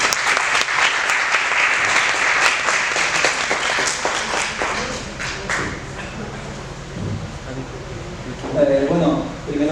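Audience applause welcoming a speaker at an academic science philosophy talk, strong clapping at first that thins out and fades over several seconds, giving way to a speaking voice near the end.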